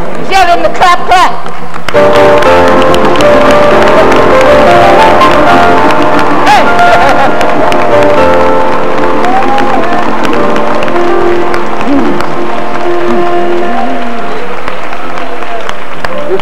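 A congregation at a COGIC women's convention prayer service claps along in rhythm, the claps sitting loud under voices singing and calling out throughout.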